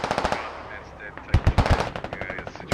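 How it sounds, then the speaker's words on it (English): Rapid machine gun bursts ring out in the tactical shooter Squad Ops during a bridge assault, loud and close, with volleys of fast repeating shots, a short pause and more firing at slightly varying distances. "I think Revy just got lasered by an MG."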